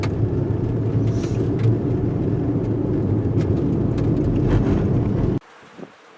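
A 2017 Toyota Highlander drives along, its engine and road noise a steady loud rumble with wind buffeting the microphone, cutting off abruptly near the end to near quiet.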